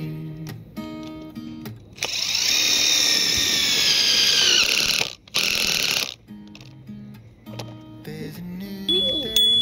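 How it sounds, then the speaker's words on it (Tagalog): A power drill is used at a caravan campsite in rainy Australia, whirring loudly and steadily for about four seconds, pausing briefly, then running again, with faint voices before and after. "And third is the drill."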